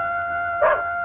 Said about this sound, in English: That terrible dog. He always barks when the old man stays up at night.